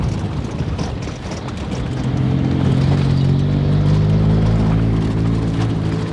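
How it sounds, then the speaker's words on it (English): Engine of a Mercedes-Benz Smart car off-road build, stock except for an aftermarket exhaust, a loud steady droning rumble that rises after a couple of seconds and holds close to the microphone, with no talking. "It's got an exhaust on it. The engine's stock except for the exhaust."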